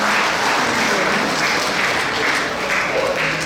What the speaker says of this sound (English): so I hope you give them a big round of applause after the performance.